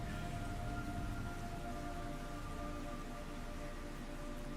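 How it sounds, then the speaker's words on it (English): Rain falls in Metal Gear Solid 3: Snake Eater as a steady, even hiss, with droning sustained tones running beneath it throughout and no voices. "It's raining blood."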